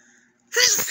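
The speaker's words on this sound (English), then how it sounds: "I'm about to sneeze." A single loud adult human sneeze, close up, a faint hum before a sharp breathy burst that cuts off abruptly.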